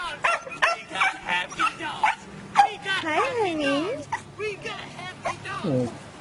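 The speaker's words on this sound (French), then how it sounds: "le monsieur joue avec ses petits chiens" Small dogs in a played-back online video yip, bark and whimper in high, wavering bursts, loud and close, with a person talking intermittently over them.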